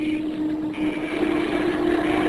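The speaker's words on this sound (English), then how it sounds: "Engines are giving out." Failing bomber plane engines in a radio drama sound effect, a steady droning hum that holds throughout at close, loud level with a slight rise toward the end, no voices over it.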